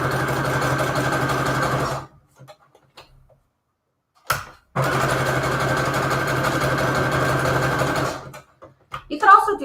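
A sewing machine stitching with a coloured bobbin while junk journal embellishments are made, two bursts of steady, fast mechanical whirring with a humming motor, separated by a silent pause, and a voice briefly heard at the end.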